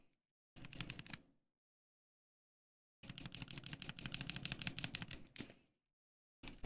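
SP Star Magic Girl tactile keyboard switches clack in two bursts of rapid, close presses, a short cluster followed by a longer run of keystrokes, alone in near silence.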